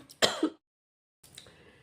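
One sharp throat clearing with a cough sounds up close, then silence follows before a softer second clearing of the throat.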